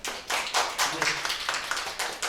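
Audience at a stock-trading basics seminar for announcers claps together in a short, loud burst of separate hand claps lasting about two seconds, with a brief murmur of voices mixed in.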